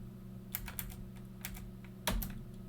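Commands are typed on a computer keyboard, with a few scattered close key clicks in small bursts and one firmer keystroke over a steady low hum.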